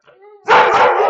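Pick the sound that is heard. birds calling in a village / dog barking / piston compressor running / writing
dog barking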